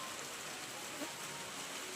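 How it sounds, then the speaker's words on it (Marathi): Rain beginning to fall over a garden where yard waste was burning, a soft steady hiss of drops on surfaces at low level with no talk. "सकाळी सकाळी आता पावसाला सुरुवात झाली आमच्याकडे"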